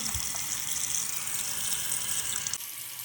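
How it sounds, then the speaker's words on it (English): Clear plastic dental retainers are rinsed under a running tap, a steady broadband rush of water splashing for about two and a half seconds before it abruptly drops off near the end. "So we just rinse them off real good."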